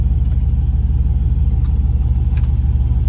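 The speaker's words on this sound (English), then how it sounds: "Doing donuts on an ice parking lot is probably the most fun I've had all year." A car doing donuts on an icy parking lot, its engine a steady, loud, close low rumble that holds throughout with little change in pitch.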